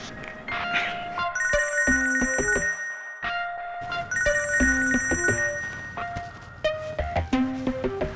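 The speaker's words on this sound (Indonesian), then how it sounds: "Ini harus dikasih tahu nih Mas Randy kalau mamanya telepon" A mobile phone ringtone plays a bright, repeating electronic melody in several bursts. It rings loudly and close by, with nobody speaking over it.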